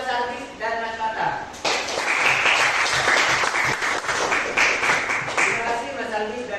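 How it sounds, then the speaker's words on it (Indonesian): A class breaks into applause for two students, Mas Aldis and Mas Fatah, during a Quran recitation (tajwid) lesson. The dense clapping swells, holds steady, then fades, with a teacher's voice speaking just before and after. "Tepuk tangan untuk Mas Aldis dan Mas Fatah."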